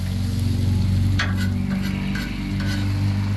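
Seared food crackles and sizzles on a Blackstone flat-top griddle, a steady close frying hiss over a low hum, with a few brief scrapes or clicks mixed in.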